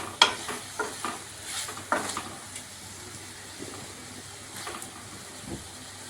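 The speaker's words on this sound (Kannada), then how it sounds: "ಚೆನ್ನಾಗಿ ಮಿಕ್ಸ್ ಮಾಡಬೇಕು ಬೆಣ್ಣೆ ಹಾಕಿ." Spoon strokes scrape through paneer masala with butter in a pan: a few soft, uneven stirring knocks up close over a faint sizzle, fading into quieter stirring.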